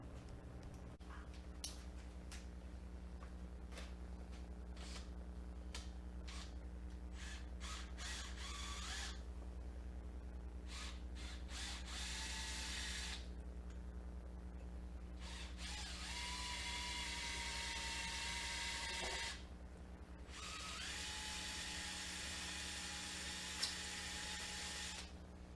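A drill bit boring into an aluminum engine block from a Subaru WRX, a high whining drill run in several bursts of varying length over a steady low mechanical hum, fairly quiet.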